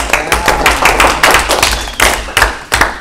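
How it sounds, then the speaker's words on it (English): Senate members at a student government meeting clapping together, a few loose sharp claps spaced unevenly over a few seconds, close and fairly loud in a room. "we need to clap for all those at once now"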